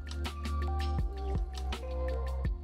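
Vodka is poured into a shaker for a cocktail, giving a short run of close, wet drips and liquid splashes with soft squishy pulses and no talk.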